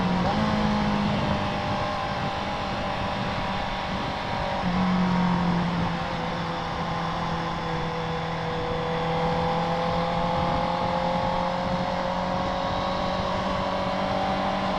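A Honda CB650R motorcycle fitted with an Akrapovic exhaust rides along, a steady, continuous engine drone whose pitch drifts slowly up and down, heard up close throughout.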